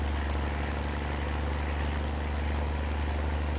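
A tractor engine pulling a mower in Farming Simulator 19 drones steadily and loudly at a constant low pitch with a rough mechanical throb, unbroken for nearly four seconds, with no talking.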